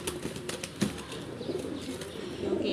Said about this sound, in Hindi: ये भी आपस में ना लड़ रहे हैं कबूतर जड़े है ना ये भी